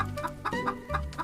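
A cartoon chicken clucks in a short series of about five soft, evenly spaced clucks, close and clear with no talking, as it is coaxed to lay a golden egg in a fairy-tale scene.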